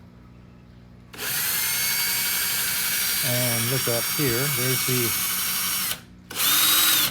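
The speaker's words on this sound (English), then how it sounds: "So let's just hit the trigger on the drill." A power drill whirs loudly at a steady high pitch, stops briefly, then starts again; someone speaks over the motor.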